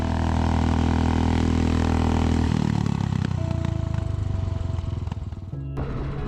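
Royal Enfield motorcycle on a Himalayan road in Ladakh, its engine a loud steady thump close by that drops and shifts pitch partway through as the rider changes gear, then settles into a lower drone.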